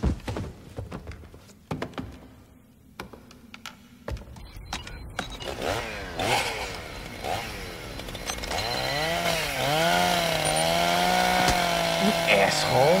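A chainsaw sound effect in a horror TV episode starts up after some thuds and rises into a loud, sustained revving drone with wavering pitch, alongside brief voices.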